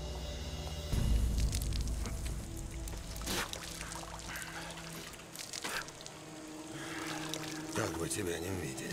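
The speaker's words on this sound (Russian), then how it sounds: "Это кран для питья." Water running from a drinking tap in a prison yard, a steady soft splashing stream, fairly quiet, with voices talking over it.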